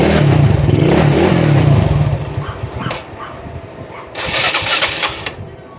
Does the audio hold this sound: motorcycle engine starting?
yes